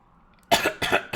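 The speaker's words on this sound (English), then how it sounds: "I'm sorry about the coughing. I'm sick." A sick person coughs close to the microphone, three harsh, loud coughs in quick succession after a brief quiet moment.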